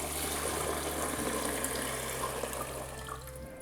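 Water is poured into a Bravilor Bonamat filter coffee maker, giving a steady, close splashing and trickling flow over a low mechanical hum. The flow eases slightly toward the end.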